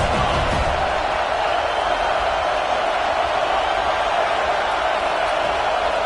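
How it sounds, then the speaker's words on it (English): Continuous roar of a stadium crowd during a College Football 26 video game, a dense, steady wash of noise filling the whole stretch without breaks. "This crowd trying to make life miserable for this offense."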